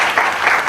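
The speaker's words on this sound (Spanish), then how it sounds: "yo creo que también se merece un fuerte aplauso también a Nando" Audience applause at a live talk event, a dense steady wash of many hands clapping, loud and close, with no voices over it.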